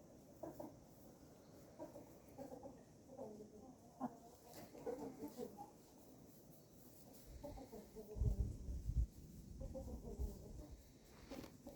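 Two cockerels cluck in soft, irregular bursts close by, with some low scuffling and thumps partway through, while a person talks quietly at times.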